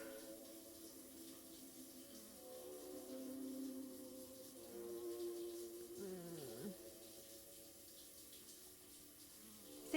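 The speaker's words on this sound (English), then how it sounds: "Oh, I hate the sound of the shower." A shower runs in the video game Scarlet Hollow, a steady, faint hiss of water that continues throughout, with soft game music and tones over it.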